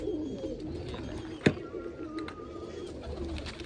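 Pigeons coo in low, soft, repeated rolling calls close by, with a sharp click partway through and faint background noise, no talk over the cooing.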